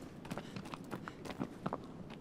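Horse hooves clip-clopping in the video game Shadow of the Colossus: a quick, uneven series of soft hoofbeats at close range over a faint ambient background.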